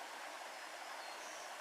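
A babbling brook, where a creek empties into a lake in Algonquin Park, gives off a steady, faint rush of flowing water with no other sounds.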